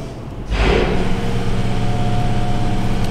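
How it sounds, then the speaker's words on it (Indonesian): An air compressor runs in a workshop, a steady loud low hum and drone that swells in after a quieter start and then holds constant, with no talking. "Suara kompresor ya. Berarti kompresor kita lagi bekerja ya."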